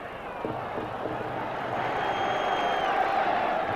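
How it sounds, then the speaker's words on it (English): Fiorentina supporters roar in the stadium during the UEFA Cup final second leg against Juventus, a dense, steady wall of crowd noise that swells slightly and holds throughout. "The crowd find their voices again in support of Fiorentina"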